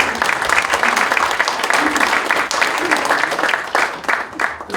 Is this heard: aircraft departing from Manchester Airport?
no